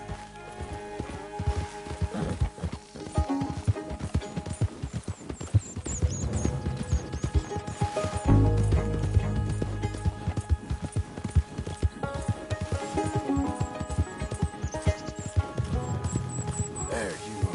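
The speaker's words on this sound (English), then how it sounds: "My horse ran away!" Horse hooves clip-clopping at a gallop in a PS4 video game, a steady rapid beat that carries throughout over faint game music, with a brief whinny near the middle.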